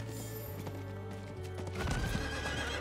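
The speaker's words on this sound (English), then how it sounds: "Do a little gallopy-gallopy on our horse" In Diablo 4, a horse gallops with a rapid clip-clop of hooves and a short whinny, loud and close over a low game soundtrack.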